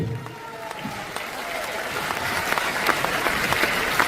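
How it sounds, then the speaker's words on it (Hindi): Audience applause at a motivational business event inside a Delhi stadium, a steady broadband wash of many hands clapping that swells slightly louder toward the end, with no clear talking over it. "आप मेरे साथ हैं तो जब थोड़ी थोड़ी देर में ताली बजाते रहना"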